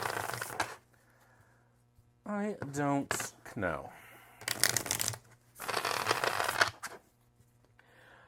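Tarot cards are shuffled in short papery bursts, several riffles separated by pauses, with a person talking briefly in between.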